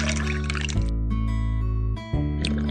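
Water pours into a cup in the BabyBus children's game Baby Panda with Magic Words, a soft liquid filling sound over steady, tuneful game music that dips briefly near the end.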